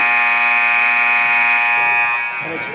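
A loud, sustained halftime buzzer at a Pacers vs Cavaliers basketball game, a steady tone lasting about two seconds before crowd noise takes over.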